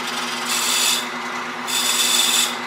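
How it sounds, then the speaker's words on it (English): Skew chisel cutting a turned wooden box on a lathe, two sustained scraping, hissing passes over the steady hum of the spinning lathe, close and fairly loud, no talk. "This is where I'm going to reach for my skew for us to do the final cleanup"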